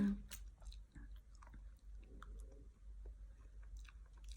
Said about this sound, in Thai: อันนี้เสียงมันดังจากผักหรอกเคี้ยวใหม่ซิเคี้ยวแบบไหน